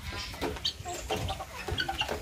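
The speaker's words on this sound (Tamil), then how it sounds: "இதெல்லாம் வந்து பார்த்தீங்கன்னா ஃபேன்சி கோழிகள் எவ்வளோ அழகாக இருக்குது பாருங்கள்" Fancy chickens at an agricultural theme park cluck in short, irregular bursts, close and moderately loud, with no voices over them.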